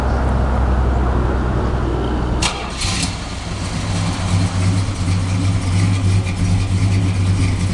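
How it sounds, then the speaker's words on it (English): The Mopar big block engine of a 1965 Plymouth Sport Fury convertible pace car runs loudly nearby, a deep steady rumble with a brief mechanical clatter partway through before it settles into a throbbing idle. "Pretty hard to beat the sound of a Mopar big block."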